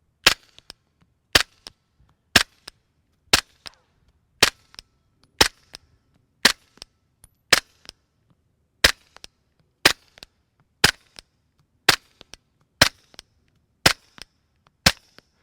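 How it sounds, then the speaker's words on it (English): Sixteen sharp, evenly spaced suppressed 9mm pistol shots fired through an Obsidian 9 modular silencer using Fiocchi subsonic ammo, each a crisp crack with a short tail, about one per second, with no talking. "this is Fiocchi Sub Gun Ammo. It's designed for submachine guns, subsonic, or pistol caliber carbines, but it's still pretty quiet in a pistol like this."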